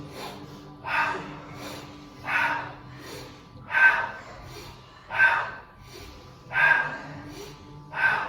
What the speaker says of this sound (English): It's a sniff in through the nose and a sound as we exhale.